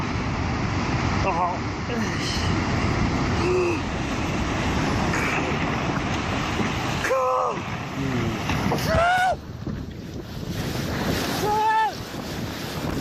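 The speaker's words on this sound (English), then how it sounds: "this cruise ship was on its way to Ireland when it ran into some pretty heavy waves" Heavy seas crash against a cruise ship bound for Ireland, a constant roar of wind and surging water filling the air, with excited human shouts breaking through over the rumble.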